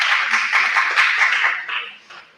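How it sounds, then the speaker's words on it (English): Conference audience clapping for two doctors called up on stage, a dense burst of applause that fades out over a couple of seconds. "A huge round of applause for them."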